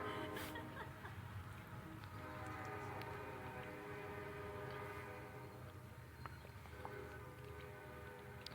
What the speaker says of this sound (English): I'm going to wait for the train to go by